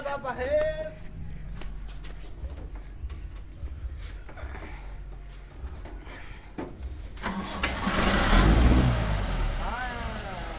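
A vehicle engine cranking and catching, with rough running that swells into a louder rev near the end, heard up close amid outdoor commotion and people talking.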